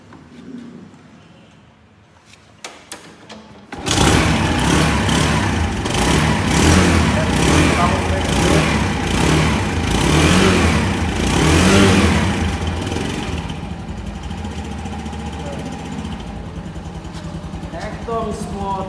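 Runner 110cc scooter starting up: after a few faint clicks the engine catches abruptly and runs loudly, revving up and down with a buzzing mid-pitched drone before settling toward idle, with people talking over it.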